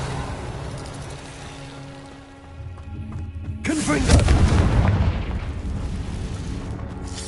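The Confringo fire spell goes off in Hogwarts Legacy, a loud booming explosion that swells midway through a rumbling game soundscape and then trails off as sustained noise.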